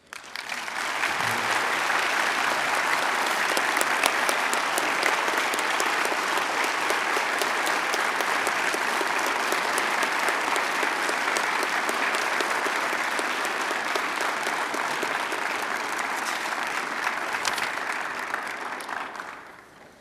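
A crowd applauds at a police academy graduation and swearing-in ceremony, giving sustained, dense clapping from many hands that holds steady for about twenty seconds before tapering off at the end, with no talk over it.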